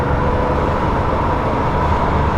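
A 1973 BMW 3.0 CSL with a 3-liter engine cruises in rush-hour traffic, a steady, muffled engine and road rumble heard from inside the car.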